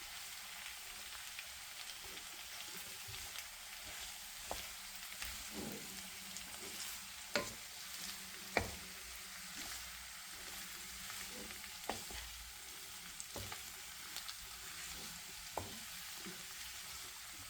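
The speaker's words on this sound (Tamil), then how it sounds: "இதெல்லாம் ஆட் பண்ணி இப்படியே நாங்கள் பொரிச்சிருக்கோம்." Ground spices, including dried chilli powder and paprika powder, fry in oil in a pan for a potato roast: a quiet, steady sizzle broken by sharp clicks and scrapes of stirring.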